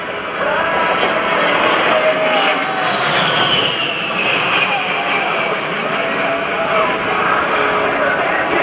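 An A-10 Thunderbolt II makes a demonstration pass at an air show, its loud jet engine roar sustained and steady throughout, with a commentator talking over it.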